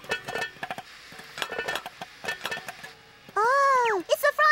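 A cartoon frying pan clatters and clinks in a short burst near the end, following a stretch of high childlike cartoon voices talking.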